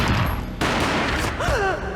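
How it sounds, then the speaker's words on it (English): A sharp gunshot bursts out in the video game Max Payne, followed by sustained noisy rumble and a bright warbling sweep as the action plays out in slow motion, loud throughout. "A gunshot boomed and she fell down in slow motion."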